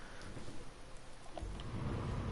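Heavy rain hisses steadily over the Nordschleife in a racing video game, a dense continuous wash with a deepening low rumble building toward the end, no voices.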